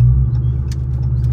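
A Dodge Challenger Hellcat Redeye's engine rumbles low and steady at close range, a continuous deep idle with no pitch changes over a brief moment.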